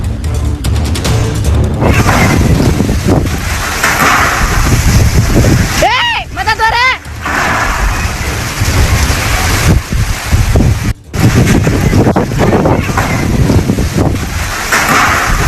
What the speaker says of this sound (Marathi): वादळी वाऱ्यासह जोरदार पावसानं नांदेडमध्ये हजेरी लावली